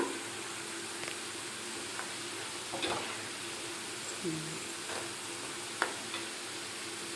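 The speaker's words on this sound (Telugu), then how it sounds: "ఇలా వేగుతుంది కదా" Potatoes frying in oil in a pan make a soft, even sizzle with occasional light pops and a few utensil clicks, fairly quiet and alone.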